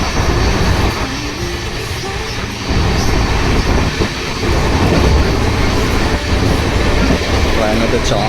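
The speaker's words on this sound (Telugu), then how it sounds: "ట్రైన్ అయితే చాలా ఫాస్ట్గా వెళ్తుంది" A passenger train runs fast on the rails between Renigunta and Srirangam, with a loud, continuous rolling roar and rattle heard from inside the coach.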